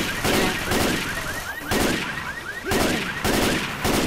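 Automatic weapon fire in Left 4 Dead 2 rattles in repeated short bursts, fairly loud and steady, with brief pauses between volleys.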